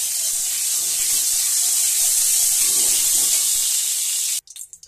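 Oil heating in a kadai on a gas stove at medium flame, a steady close hiss and sizzle lasting several seconds before cutting off abruptly into quieter clatter.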